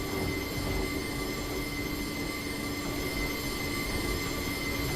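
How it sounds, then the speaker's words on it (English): Class 08 shunting locomotive and carriages on a heritage railway, steel wheels squealing steadily against the rails for several seconds over a continuous rumble, close and loud with no talking. "Oh, you gotta love a bit of good wheel squeal"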